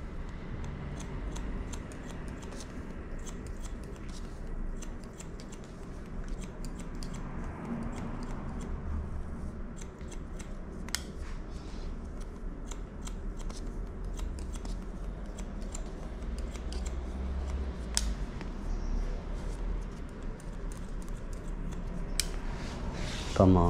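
Thinning scissors snip steadily through hair during a layered haircut, giving soft, close metallic clicks in an irregular rhythm over a low background hum.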